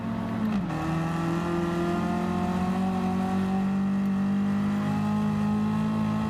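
Citroen engine revving steadily in Gran Turismo 7, a sustained droning note that drops briefly early on and then holds near and loud with stacked harmonics, no talking.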